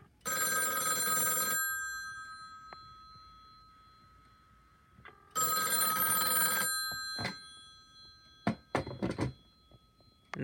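An electronic telephone ring sounds in two long bursts separated by a quiet pause, followed by a few clicks and knocks from handling a phone.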